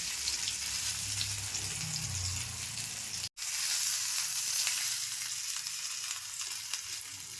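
Fish masala sautéing in a pan for Malvani-style spicy fish, a steady close sizzle and hiss with low stirring scrapes, broken by a brief dropout partway through; no one speaks.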